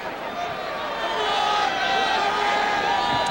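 Home crowd at a Notre Dame college football game against Duke cheering in a large stadium, a steady, swelling roar that grows slightly louder.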